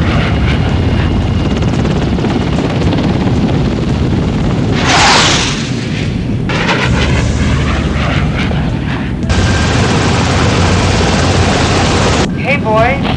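A helicopter engine in the combat flight game Tomcat Alley makes a steady, loud rotor drone throughout, with booming blasts and whooshing bursts layered on top, under intermittent radio-style voices.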